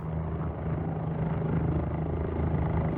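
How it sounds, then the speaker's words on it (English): An OH-58 Kiowa helicopter in the X-Plane flight simulator slows down. Its steady, loud rotor and turbine drone holds throughout without a break, with a low rhythmic thump under a broad engine roar. "I already slowed the helicopter down. Decel feels quite natural."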